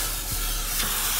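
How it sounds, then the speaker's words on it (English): Hot molten silver dropped into a bowl of water gives a steady, close hiss of steam, like a spray, that holds at an even level throughout. "the most satisfying thing about this is watching the silver sizzle"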